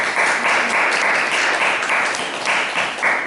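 A church congregation at a Sunday service breaks into warm, sustained applause, many hands clapping together indoors with a steady, lively patter.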